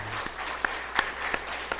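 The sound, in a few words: congregation applause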